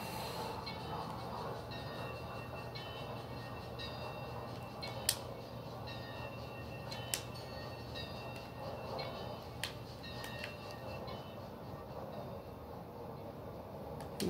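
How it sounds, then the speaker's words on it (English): An Amtrak train with Horizon coaches rumbles steadily, with a constant low drone, hiss and occasional sharp metallic clicks and clanks from the wheels and cars. "I'm gonna slow the train down."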